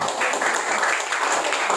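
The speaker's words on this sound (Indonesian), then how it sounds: "Mana tepuk tangannya buat Tuhan?" A church congregation applauding for God during a worship service, a dense steady wash of clapping from many hands that holds even throughout, fairly loud and close.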